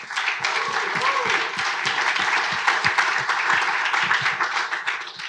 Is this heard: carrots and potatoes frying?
no